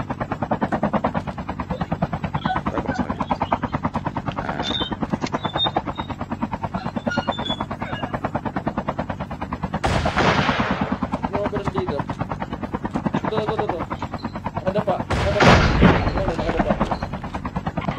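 Helicopter rotor and bursts of gunfire in a video game, a steady choppy drone throughout with two loud explosive blasts near the middle and end, under occasional talk.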